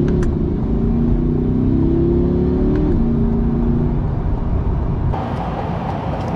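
A 2023 Corvette Stingray under hard acceleration in manual mode, its engine note rising and dropping through rapid gear changes, loud and close with steady road roar throughout.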